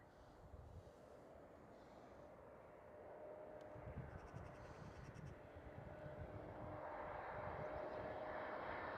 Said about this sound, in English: Next one looks like an Embraer.